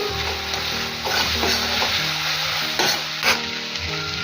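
Tomatoes for a ladyfinger curry being stirred and mashed with a spatula in a hot pan, with continuous sizzling and scraping strokes and a few sharper knocks of the spatula, heard close and alone.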